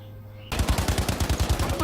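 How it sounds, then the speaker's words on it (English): A heavy machine gun in a video game fires a rapid, rhythmic burst of about a dozen loud, close shots after a brief quiet start. "Heavy machine gun."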